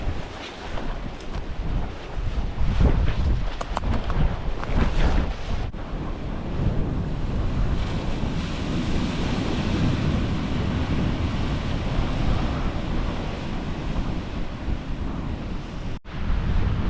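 Strong wind buffets the microphone in a heavy, steady roar while waves wash and surge beneath a huge cliff, loud and continuous with no talking.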